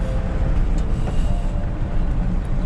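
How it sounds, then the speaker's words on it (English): A car engine drones low and steady from inside the cabin while driving past an old blue asbestos mining town, a continuous rumble with wind and road noise and no talking. "Just heard the engine chugging."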